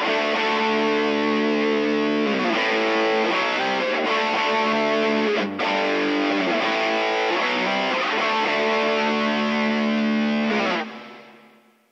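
Heavily distorted, extreme high-gain electric guitar chords with reverb and a noise gate ring out loud and sustained, recreating a song, then cut off sharply and fade at the end.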